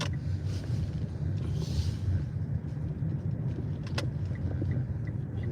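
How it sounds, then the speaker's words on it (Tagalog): Cars in a busy store parking lot at a newly opened shop in Canada, a steady low rumble of engines and passing traffic with a few faint clicks, heard alone. "Kaya pala ang daming sasakyan no."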